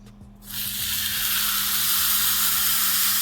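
Steak dropped into a greased pan, bursting into loud, steady sizzling and hissing that starts abruptly after a brief quiet moment and continues evenly over a low background hum.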